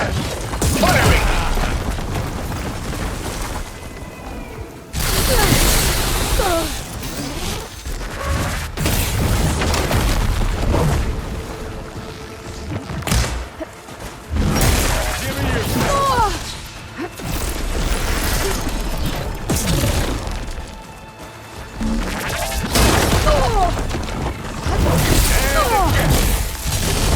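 Supporting fire from Zoe in the video game Horizon Forbidden West: repeated booms, crashes and mechanical whooshes of a loud combat scene, with bursts of impacts and machine clatter throughout.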